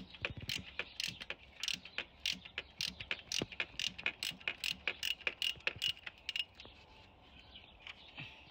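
A ratchet with a 17mm socket working the PCV valve loose on a 1.8-litre Honda Civic, a close run of quick, sharp clicks in uneven bursts that slow and thin out toward the end.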